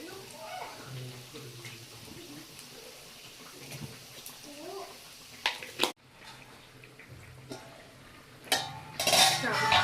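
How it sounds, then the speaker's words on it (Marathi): Khichdi for a Mahashivratri fasting meal is sautéed and stirred in a pan. A spoon clinks and scrapes against the metal in irregular strokes, with a few sharper knocks and a brief louder scraping burst near the end. "खिचडी परतत आलेली आहे"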